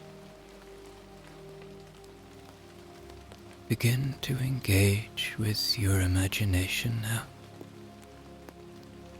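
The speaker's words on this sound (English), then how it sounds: "Begin to hear the rain falling" Steady rain falls evenly on a surface throughout, a soft continuous hiss, while a calm voice speaks over it in the middle stretch.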